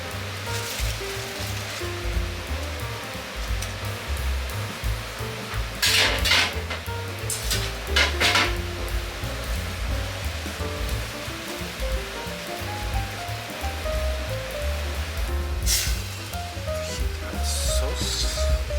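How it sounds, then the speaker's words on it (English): Smelt fish frying in hot oil, a steady crackling sizzle running throughout with occasional louder spatters and clinks of cookware, close and with no talking. "Fried smelt."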